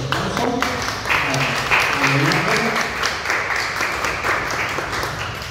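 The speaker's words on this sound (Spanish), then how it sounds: "Démosles un fuerte aplauso." An audience applauds at a Spanish-language history lecture on Zhukov and the Second World War, moderate steady clapping that continues throughout with some voices mixed in.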